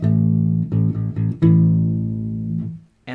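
A U-Bass plays a short phrase from a main theme: a few clipped low plucked notes followed by a longer sustained note that fades out, played close and alone.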